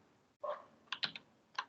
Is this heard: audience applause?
no